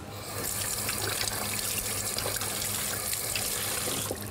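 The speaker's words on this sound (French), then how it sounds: "gousse que je vais rincer" A vanilla pod is rinsed under a running kitchen tap, with a steady, close stream of water splashing into the sink for the full few seconds, with no talk.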